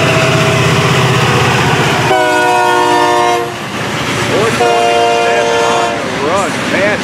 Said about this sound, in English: This train would like to let us know that he's coming through on the run.